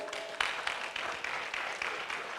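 An audience at a formal ceremony in Ghana claps through a short stretch of moderate applause, with individual hand claps occasionally standing out.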